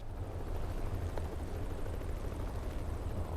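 A helicopter in the video game 428 Shibuya Scramble, a continuous low rotor rumble with a steady throbbing drone, moderately loud and unchanging, no voices.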